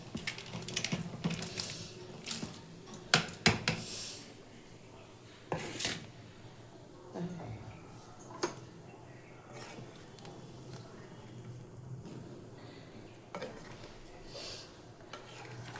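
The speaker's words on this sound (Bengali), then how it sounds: "আর এখন পনিরটা দিয়ে দেবো।" Paneer added to a simmering curry and stirred in a pot, with scattered soft knocks and scrapes of a spoon against the pot over a quiet bubbling background.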